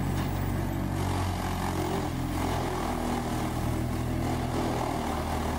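A Whole Tree Chipper 440 wood chipper working with a grapple loader, its engine giving a loud, constant, heavy drone that holds steady throughout without any speech.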